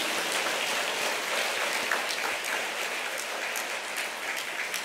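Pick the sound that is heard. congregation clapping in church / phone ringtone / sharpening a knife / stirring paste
congregation clapping in church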